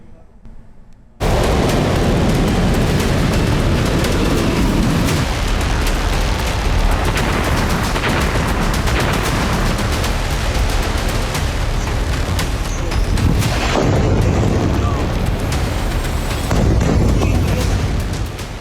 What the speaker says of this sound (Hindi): ईरान ने सोमवार को इजराइल के कई शहरों को निशाना बनाते हुए मिसाइलें दागी हैं